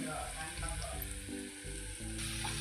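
Curry leaves, chopped onion and urad dal frying in hot oil, giving a steady close sizzle and crackle throughout with a brief dip partway, for a savoury sabudana upma.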